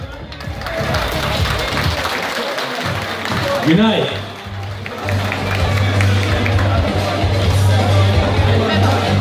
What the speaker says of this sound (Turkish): Evet, hep birlikte alkışlıyoruz.